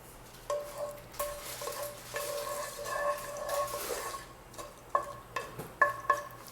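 Whole garam masala of cinnamon, cloves and cardamom frying in hot dalda, with faint sizzling and a series of light metallic clinks and scrapes from a spoon against the pan, close, no talking.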